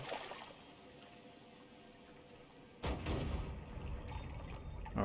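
Water pouring away in the Noita video game, a soft trickling wash that gives way to a louder, rushing gush of liquid partway through, steady and close with no talk.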